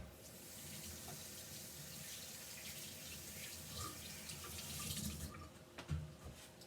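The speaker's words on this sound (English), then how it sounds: "I'm gonna take this and rinse it off underneath this tap water." Tap water runs steadily from a faucet as stamped paper is rinsed beneath it, a constant close hiss and splash that swells and gurgles toward the end, with no voices.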